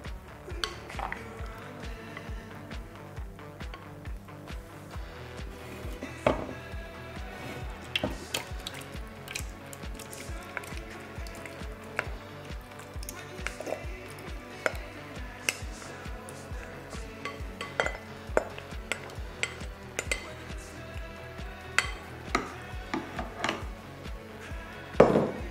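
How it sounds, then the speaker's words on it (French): A utensil stirs a zucchini, chorizo and feta mixture in a cake mold, giving a steady run of light clinks and scrapes against the pan with no speech. "je remue encore un petit peu à l'intérieur pour que tout soit bien réparti"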